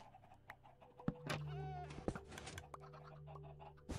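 Goats in the Minecraft video game bleat in a long wavering cry from a cave, with soft scratchy game sounds and clicks around it, heard close and fairly quiet.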